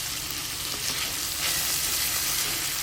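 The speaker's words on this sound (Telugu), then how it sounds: "ఈ కాయగూరలు ఇలా వేగిన తర్వాత 2 స్పూన్లు అల్లం వెల్లుల్లి పేస్ట్ కూడా వేసి పచ్చివాసన పోయే వరకు బాగా వేయించుకోవాలి" Ginger garlic paste frying with vegetables in hot oil for coconut rice, a loud dense continuous sizzle close to the pan with faint stirring, no talking.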